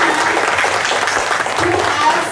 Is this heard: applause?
yes